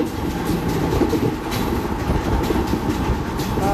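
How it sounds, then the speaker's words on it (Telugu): A train rolls steadily along in an Indian train simulator game, with a continuous rumbling drone and faint rhythmic clickety-clack of wheels over rail joints, close and fairly loud with no talking. "ట్రైన్ వెళ్ళిపోతుంది గైస్"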